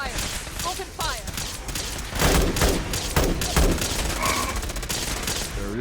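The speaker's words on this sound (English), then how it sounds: "Target acquired. Open fire." Gunfire in Fallout 4 erupts as a dense fusillade of rapid shots and booming blasts, loud and continuous through the whole stretch, with a voice speaking over part of it.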